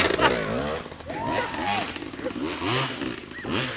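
Dirt motorcycle on an off-road trail climb, its engine revving and rising in pitch as the rider accelerates, mixed with excited shouting from nearby people.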